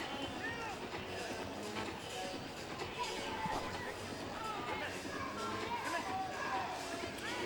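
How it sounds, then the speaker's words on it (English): A crowd in the stands at the 2010 CrossFit Games keeps up a constant roar of cheering and babble, heard from a distance and at a low level, with the event's background noise underneath. "A lot of cheering from the background there."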